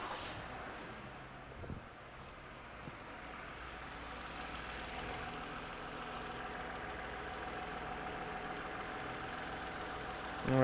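A car engine idles while its oxygen sensor heater circuit is tested, giving a steady low rumble with some wind noise that swells slightly near the end; no one talks.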